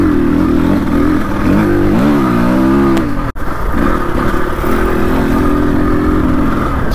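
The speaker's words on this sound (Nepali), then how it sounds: "यताबाट आयो भने बाइक पनि आइरहेछ है तल" A motorcycle engine runs steadily and close on a steep mountain road near Jibre Khola, its drone rising and falling as the throttle revs, with a brief sharp knock around the midpoint.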